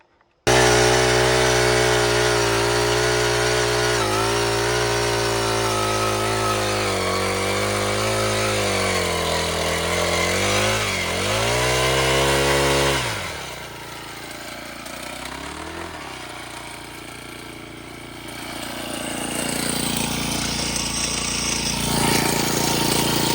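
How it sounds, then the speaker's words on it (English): A powered auger bores fence post holes into the ground, its engine droning loudly and shifting pitch as it works, then dropping to a lower idle before revving back up. "26 holes with the auger that we've never used."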